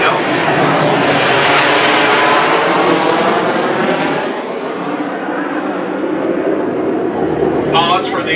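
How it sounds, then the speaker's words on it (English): F-18 fighter jet flying over San Diego near Coronado, a loud broad roar that swells and then slowly fades, heard close and powerful from the ground. "Pause for the F-18."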